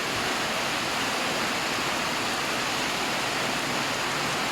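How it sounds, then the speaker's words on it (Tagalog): Heavy rain pours down in a dense, constant roar during a typhoon, loud and unbroken with no voices, like a downpour hammering nearby surfaces. "Lumakas pa yung ulan."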